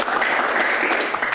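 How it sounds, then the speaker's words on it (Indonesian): Audience applause in an Indonesian Q&A talk-show studio, a steady dense clapping that fills the whole moment evenly and loudly, with no voices over it. "Tepuk tangan"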